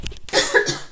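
A single short cough, muffled as if turned away from the microphone, forms one close burst with no talk around it.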